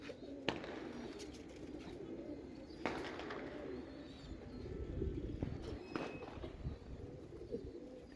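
Pigeons in a loft keep up a steady, layered cooing throughout, several birds murmuring at once, with a few sharp clicks and rustles breaking through the fairly quiet, close background.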